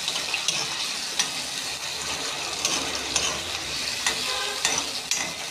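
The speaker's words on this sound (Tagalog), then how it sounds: "talagay na natin yung sardinas" Bottle gourd and sardines are stirred in a hot pan, with a steady sizzle and periodic scraping clicks of a utensil against the pan, close and continuous.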